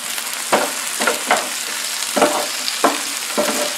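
Food sizzling on a Blackstone E-Series 22-inch electric tabletop griddle after being flipped, a loud continuous sizzle broken by several spatula scrapes and taps at irregular intervals.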